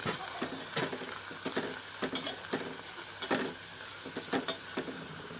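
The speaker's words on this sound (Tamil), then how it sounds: "தக்காளி பழம் நல்லா வதங்கி வரணும்." Onion and tomato sizzle steadily in a pan while a utensil stirs and scrapes in a loose, repeating rhythm, close by.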